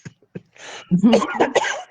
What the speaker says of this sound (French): ça va recommencer à tousser